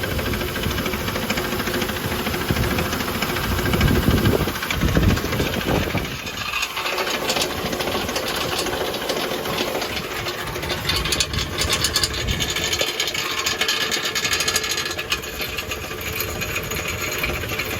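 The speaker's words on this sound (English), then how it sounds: "It's a knocking, right? Like a rod knocking." A Nissan Frontier pickup with a swapped-in Titan engine idles steadily, with a continuous mechanical clatter and rhythmic rod knocking throughout, fairly loud and close, with no voices.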